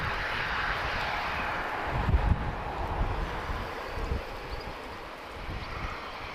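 An Airbus A330-200 airliner at Lisbon Airport gives off a steady distant jet engine rumble and whoosh, swelling slightly midway with some wind buffeting.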